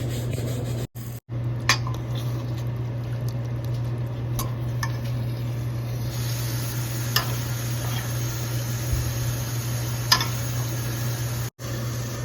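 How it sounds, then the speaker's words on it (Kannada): Boiled eggs frying with salt, chilli and turmeric powder in a pan, a steady low sizzle with occasional scraping and tapping of a utensil and a constant background hum, no voices. "ಈಗ ಇದನ್ನು ಸ್ವಲ್ಪ ಫ್ರೈ ಮಾಡ್ಕೋಬೇಕು ಉಪ್ಪು ಖಾರ ಮತ್ತು ಅರಿಶಿನದ ಪುಡಿನಲ್ಲಿ"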